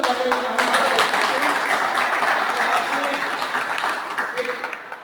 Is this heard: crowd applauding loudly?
yes